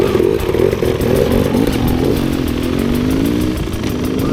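A 2024 Husqvarna TE 300 dirt bike engine runs close by with a steady, buzzing two-stroke idle and a light revving wobble, loud and continuous with no voices over it.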